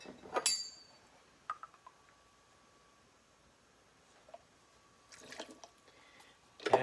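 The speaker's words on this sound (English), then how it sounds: "I'm going to pour that into a shaker full of ice" Rum cream liqueur poured into a cocktail shaker full of ice, with faint liquid trickles and scattered glassy clinks and rattles of ice at the start, middle and end, quiet overall.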